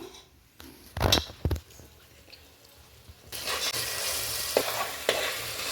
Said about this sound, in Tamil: ஸோ இந்த தக்காளி எல்லாமே நல்லா வதங்கி வரட்டும்.